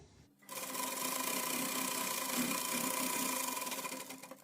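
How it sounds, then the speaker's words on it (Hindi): A sewing machine runs the half-inch side seams of a semi-patiala salwar. Its steady, close mechanical whir starts abruptly and continues evenly for about four seconds. "दोनों साइड से आधे आधे इंच के फासले पे सिलाई लगा लेंगे।"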